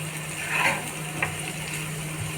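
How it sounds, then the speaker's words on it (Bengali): Spiced potatoes with chili powder and sugar sizzle steadily in a hot pan for muri ghonto while a utensil stirs and scrapes through them a couple of times, close up. "এটা ভালো করে নেড়ে চেড়ে"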